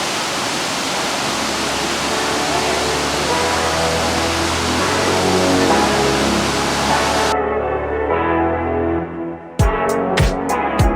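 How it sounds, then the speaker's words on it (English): The Monte Gelato waterfalls roar in a loud, continuous rush of water, steady for most of the stretch before the sound briefly drops and cuts into a few sharp knocks. "So we arrived at the waterfalls."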